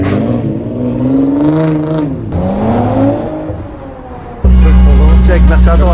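Alfa Romeo 8C Competition engine revving, a rising and falling mechanical whine through several throttle blips, close and loud, then a deeper heavy roar at the end; someone talks excitedly over the first part.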